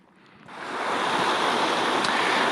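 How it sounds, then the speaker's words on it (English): A roughly foot-deep river rushes past a trail crossing on the Second Water Trail in Arizona's Superstition Wilderness. The steady broadband flow swells up within the first second, then holds loud and constant, close by, with no talk. "So we got a river crossing here. Water looks pretty deep, about a foot deep."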